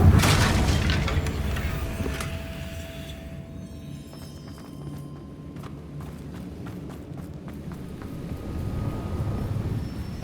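Confringo fire blast spell cast in the Hogwarts Legacy video game, a loud booming burst at the start that fades into low rumbling ambience with scattered faint clicks and footsteps.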